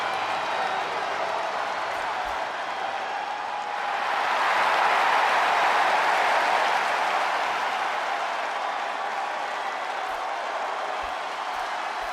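A wrestling arena crowd in the video game WWE 2K24 during a Hell in a Cell match, a steady roar of cheering and applause that swells louder midway, with commentary voices over it.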